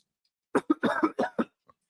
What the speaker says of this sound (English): Sorry for coughing in your ear.